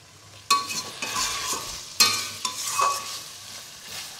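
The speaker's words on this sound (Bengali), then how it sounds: "ভালো করে কষিয়ে নিই" Food being sautéed in a pan, with sharp spoon or spatula scrapes and clanks at intervals over a soft sizzle, close and fairly loud, without any talking.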